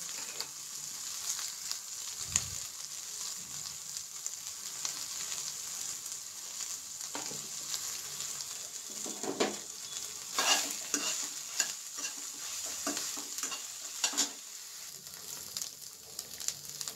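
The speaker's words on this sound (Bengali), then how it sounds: "সয়াবিনের মধ্যে সামান্য হলুদ আর নুন দিয়ে সয়াবিনগুলো ভালোভাবে ভেজে নিতে হবে।" Soybean chunks with turmeric and salt frying in ghee in a kadai, giving a soft, steady sizzle with occasional stirring scrapes and light pops, fairly faint and with no talking.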